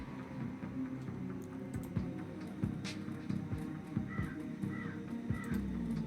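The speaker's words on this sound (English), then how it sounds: "Birds." Crows caw in the Shadowrun Returns video game, a few short repeated calls over a steady game ambience with soft clicks and thumps.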